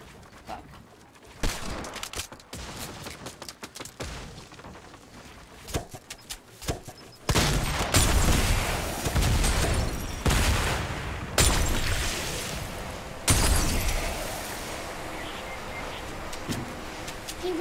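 Gunfire in Fortnite with a firefight nearby: scattered sharp shots at first, then heavier, louder bursts of rapid fire that come and go in dense clusters, with no talking.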